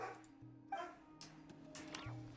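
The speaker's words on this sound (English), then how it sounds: "I can hear the dog barking." In Genshin Impact a dog gives a few short, faint barks and yips spaced out over a couple of seconds, heard at a distance over a quiet background.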